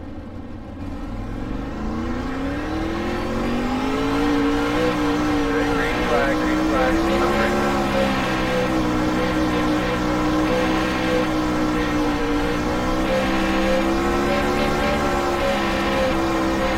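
Dirt-track 360 sprint cars in the iRacing game at Volusia roar as the pack accelerates at the green flag, engines rising into a loud, sustained drone with occasional speech beneath.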